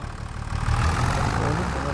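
Tractor engine idling in Farming Simulator 25, a steady low rumbling drone that grows slightly louder partway through and holds close and even.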